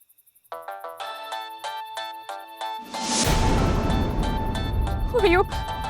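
A phone ringtone for an incoming call chimes in a rapid, repeating melodic pattern, preceded by a few soft beeps, then is overlaid by a burst of dramatic background music and a voice in a TV serial scene.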